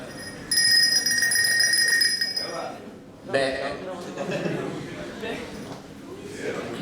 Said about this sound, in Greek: Θα χτυπήσει κουδούνι.